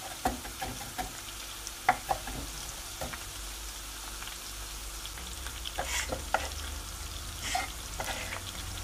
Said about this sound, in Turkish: Biberlerimiz de kızardı.